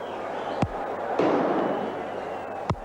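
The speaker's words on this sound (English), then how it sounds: "the firecrackers began to explode as Boycott left" Firecrackers go off at a 1981-82 India vs England Test cricket match, two sharp separate bangs over a steady, distant stadium crowd roar.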